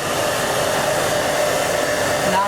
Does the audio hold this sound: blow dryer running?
yes